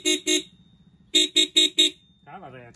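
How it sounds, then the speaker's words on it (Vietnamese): A buzzy counterfeit copy of a Denso car horn honks twice, pauses, then gives four quick, loud beeps close by. A voice starts speaking at the end. "Đây là âm thanh của kèn phát ha, mình sẽ bấm cho các bạn xem."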